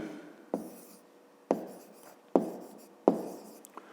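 Handwriting with a pen on paper while working a math exercise, four distinct taps of the pen touching down at roughly even intervals, each followed by a short faint scratch, close and quiet.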